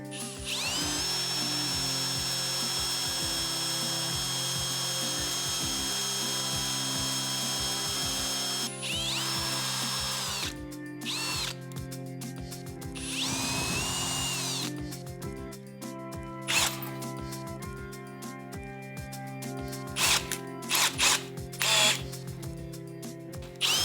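Easy-out screw extractor being worked into a stuck fastener on a motorcycle part, with steady ratcheting and grinding tool noise, sharp metallic clicks and clanks, close and continuous with no talking.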